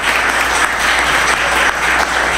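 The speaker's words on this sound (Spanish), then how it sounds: "aquí viene el embajador de Grecia, si le dan un aplauso" An audience applauds the Greek ambassador as he arrives at a talk on the US and Mexican elections: steady, dense clapping that stays loud and close for the whole stretch.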